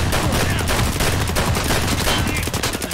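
Gunfire and explosive blasts in the Escape from Tarkov video game, a dense, loud burst of rapid shots and booms running continuously for about three seconds.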